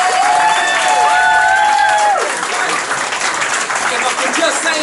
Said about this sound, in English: So again, a massive round of applause for both of you.